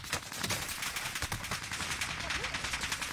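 Rapid video-game gunfire, steady automatic bursts of crackling shots running throughout at moderate level, with faint voices mixed underneath.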